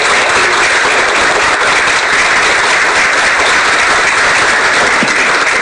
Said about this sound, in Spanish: Les pido un aplauso para Roberto